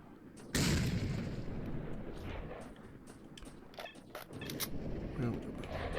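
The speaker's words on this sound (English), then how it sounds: "A grenade." A grenade explodes in Stalker: Shadow of Chernobyl, a sudden loud blast followed by a long rumbling tail, with scattered clicks and gunfire-like pops after it.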